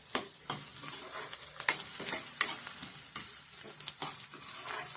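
Onions fried to golden brown for a Malvani egg curry, heard as a low sizzle under repeated sharp scrapes and clinks of a spoon stirring against the pan, close up with no talking.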